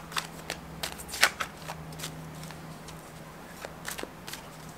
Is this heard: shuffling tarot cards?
yes